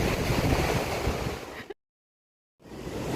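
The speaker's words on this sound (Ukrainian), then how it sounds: "Блін, хвилі такі класні." Steady broadband wash of Atlantic Ocean surf on the Irish coast with wind buffeting the microphone, cutting to silence for almost a second before the roar returns.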